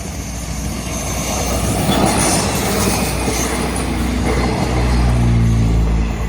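A diesel railcar express train, three cars with Cummins NTA 855 R1 350-horsepower engines, rumbles past close by under an overpass in Thailand, a loud, steady roar with rattling wheels and a faint squeal on the rails.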